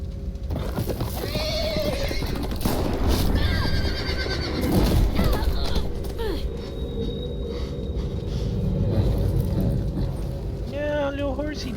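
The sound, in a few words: horse neighing as it is killed, from The Walking Dead video game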